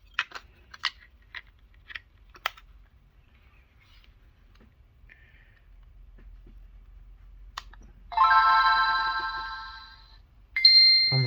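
Game Boy Advance SP AGS-001 with a backlit IPS screen and speaker amplifier mod plays a loud bright start-up chime, preceded by a few faint clicks and ending with a second short tone.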